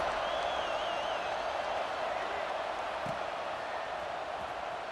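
Crowd buzz in a college football video game, NCAA 26, after a touchdown: a steady, dense stadium roar of many voices holds evenly throughout, with a faint whistle-like tone early on and no clear talk.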